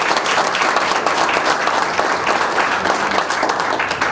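An audience applauds after a speech at a baseball bat agreement event, with dense, steady clapping of many hands that stays loud and even for the whole stretch.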